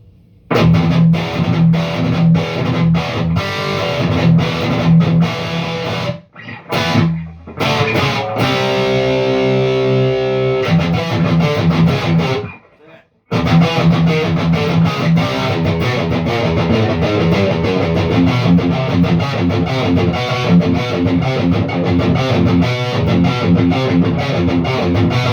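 Heavily distorted electric guitar chugging through an Axe FX III and a solid-state amp in the room, loud palm-muted riffs that break off twice into brief gaps and a ringing chord before resuming.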